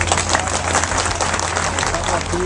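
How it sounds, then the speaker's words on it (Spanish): Market vendors at a protest meeting break into dense, steady applause that stays loud throughout, with crowd voices blended in. "Un aplauso."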